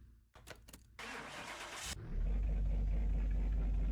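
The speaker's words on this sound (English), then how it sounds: "But let's start this one up." A few clicks and a starter whir lead into a Delahaye replica car engine in Car Mechanic Simulator 2021 catching and settling into a loud, steady, low rumble up close.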